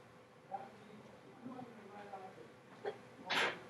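Soft speech murmurs in a quiet classroom during a math lesson, then a single sharp, breathy sneeze bursts out near the end.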